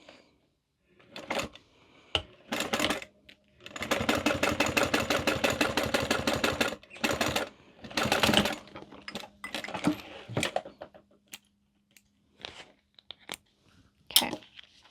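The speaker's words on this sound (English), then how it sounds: "now we're going to top stitch here" Sewing machine top stitching a mini wallet, running in several bursts of rapid, even stitching, the longest lasting about three seconds, with short pauses and small clicks and handling noises between them, near and clear with no talk.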